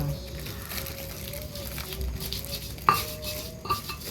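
Sliced bananas fry in a pan in a home kitchen, cooked as food for a tahlilan gathering. A steady sizzle runs the whole time, broken by a couple of sharp utensil scrapes and clinks against the pan while people talk nearby.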